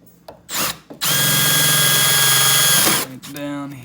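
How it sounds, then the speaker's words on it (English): A right-angle drill bores holes during a dual electric fan upgrade on a Nissan Z31. Its loud, steady whine runs for about two seconds after a short starting burst, with brief voice sounds before and after. "I got a little right angle drill here. I'm gonna try and get in and drill some holes"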